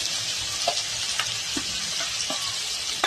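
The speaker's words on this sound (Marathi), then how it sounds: "कांदा परतायचा" Finely chopped green chillies and onions frying in a pan for Puneri-style upma, a loud, constant hiss of hot oil broken by a few soft stirring knocks.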